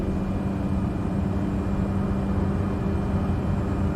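Single-turboprop Cessna 208 Grand Caravan in a flight simulator, engine power rising for the takeoff roll: a steady, loud, droning hum with a constant low tonal whine throughout, no voices.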